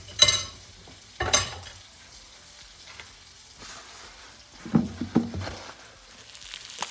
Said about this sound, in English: While my chicken is cooking